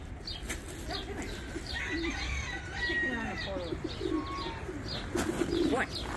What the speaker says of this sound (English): one of the pigeons got out.